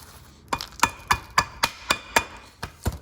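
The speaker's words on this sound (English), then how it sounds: "That thick, scaly rust stuff, you want to chip it all away." Chisel hammered against thick, scaly rust on the rear brake caliper bracket of a 2016–2021 Honda Civic, giving nine sharp metallic impacts at a steady, fairly quick rhythm, close and clear with no talking.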